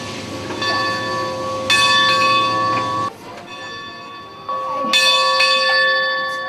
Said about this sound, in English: But you have to ring the bell.